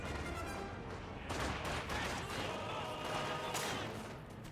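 Combat engineers firing rifles in the World War II strategy game Company of Heroes 2, with dense, continuous crackling gunfire and faint distant blasts forming a steady wash of battle noise, without talk.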